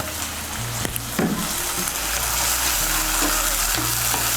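Water poured into a pan of frying ginger, garlic and green chilli paste, giving a steady close sizzle with stirring scrapes and brief hissing bursts, a low hum running underneath, with no voices.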